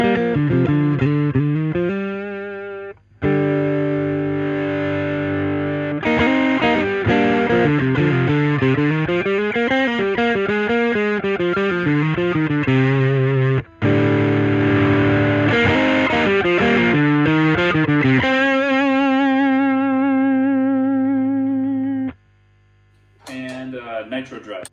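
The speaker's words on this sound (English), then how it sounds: "Here's the Ganymede distortion." Electric guitar through a Ganymede distortion pedal routed via a Signal Cheyne Sirius parallel blender, playing sustained, heavily saturated chords and bending notes in phrases separated by short pauses.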